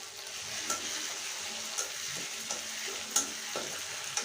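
Cumin and black pepper paste frying in a pan with tomato, a steady low sizzle broken by a few faint stirring clinks, close and without talk.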